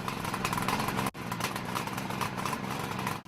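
A Kawasaki H500 Mach 3 two-stroke motorcycle engine runs close and steady, its buzzing, raspy drone dipping briefly twice before resuming.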